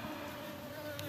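Apis honeybees buzz faintly around an open hive, a soft steady drone with a brief brighter flicker near the end.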